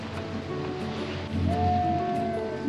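Sea waves breaking on a shore where fresh water meets salt water, a steady broad wash of surf under wind, fairly close and continuous, with a faint tonal whine partway through.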